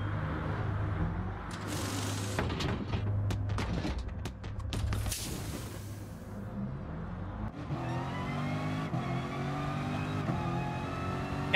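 Race cars drive in GT Sport, with a steady engine drone that fades and then climbs into a rising rev near the end, broken by a few sharp clicks and bursts along the way.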